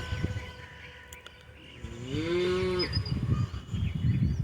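A cow at the Melur cattle market lets out one long, rising moo, close and loud, amid busy market noise with people talking nearby before and after.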